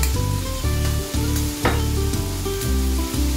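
Sautéing noodle-dish ingredients with ground black pepper and fish sauce in a pan for pancit: loud close sizzling with repeated stirring scrapes in a quick rhythm, no talking.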